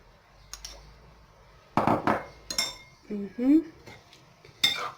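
Spoon clinking and scraping in a bowl while quinoa avocado salad is tossed with its sauce, a few scattered clatters and taps at close range with quiet gaps between.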